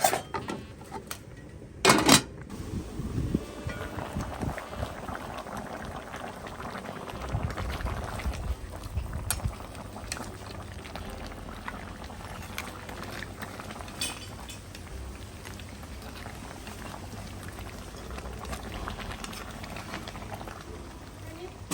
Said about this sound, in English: Let it boil up.